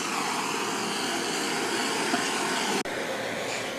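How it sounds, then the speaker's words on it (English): A heat torch played over an epoxy chessboard in a mold gives a continuous, even breathy roar that barely changes, with one brief dropout near the end. "don't worry about using a heat torch on it"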